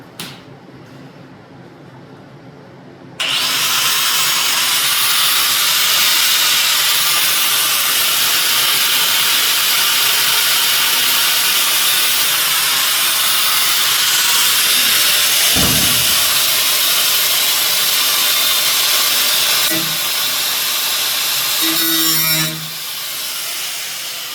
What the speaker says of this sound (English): gotta cut that roof bracket out